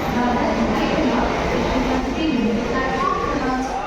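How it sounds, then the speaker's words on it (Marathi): A train at Kurla railway station gives off a continuous loud rumble and mechanical roar that stays level throughout, with a faint murmur of people around it. "कुर्ला स्टेशनला आम्ही पोचलेलो आहे"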